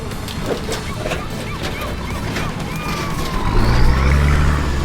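A Turbo Barra Land Cruiser grinds up a rough off-road track in Queensland's Sundown National Park. The engine note builds toward the end under crunching tyres and rattling gear, and a few chirps sound in the background.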